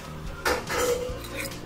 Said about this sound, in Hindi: अब हम उसमें फ्राई किए हुए केले डालेंगे